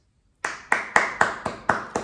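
A single pair of hands clapping seven times at a steady, moderate pace, crisp and close, each clap sharp with a short decay, after a brief silence and with no talking.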